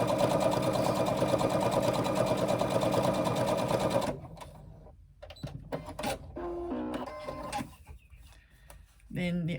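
A sewing machine runs steadily for about four seconds while stitching handbag strap connectors, with a dense, even whirring. It then stops, leaving scattered handling clicks and faint talk before a brief restart.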